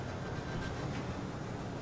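A train rolling along in GTA V, a steady low rumble with faint high whine, continuous and moderately distant, no talk.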